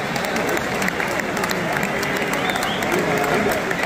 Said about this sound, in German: für die Ehre des Fußballs bitte ich um einen Applaus für den Mann